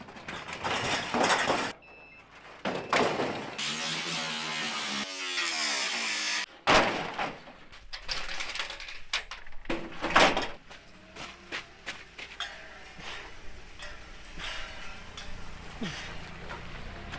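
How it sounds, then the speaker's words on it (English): A steel door is loaded into the bed of a pickup truck, with scraping metal clanks, bangs and sliding thumps over about seventeen seconds. A reversing beep and a brief tonal whine appear early on, and occasional background sounds are heard, with no talk. "we're gonna take that steel door, try to put that in the bottom of the truck bed"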